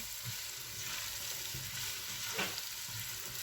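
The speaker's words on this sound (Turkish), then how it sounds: "güzelce zeytinyağımızla soğanımızı, biberimizi iyice bir soteleyeceğim arkadaşlar" Onions and peppers sautéing in olive oil in a pot, a steady close sizzle of frying with the scrape of stirring partway through.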